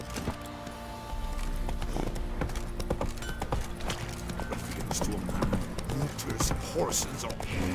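Horse hooves clop in a steady rhythm over a continuous low rumble, with faint voices and scattered clatter in the background.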